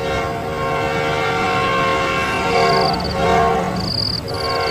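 A train rumbles steadily and loudly on the tracks, its horn sounding in a few sustained tonal blasts over the continuous rolling noise, as it comes toward a village in a horror story.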